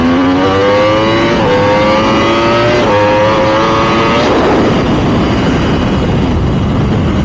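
A Yamaha R1M sport bike, lowered and set up, races a stock-height Suzuki GSX-R 1000: a loud, close engine screams upward through several quick gear shifts, then dissolves into rushing wind roar.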